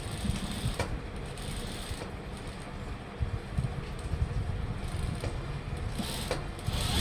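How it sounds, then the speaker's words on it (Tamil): A sewing machine stitches down the collar of a school uniform coat, a steady close mechanical whir and rattle with brief pauses and restarts, no talking. "இந்த காலர் வந்து மேலே ஒரு அமுக்கு தையல் போடணும்"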